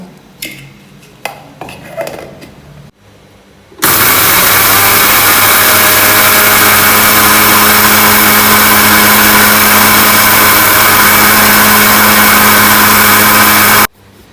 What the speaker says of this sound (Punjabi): ਹੁਣ ਆਪਾਂ ਇਹਨੂੰ ਮਿਕਸੀ ਜਾਰ 'ਚ ਪਾ ਕੇ ਗ੍ਰੈਂਡ ਕਰਾਂਗੇ